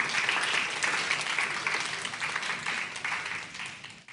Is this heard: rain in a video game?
no